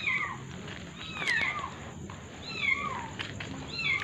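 A cat meows several times in high, wavering calls, fairly faint, against a quiet background hiss.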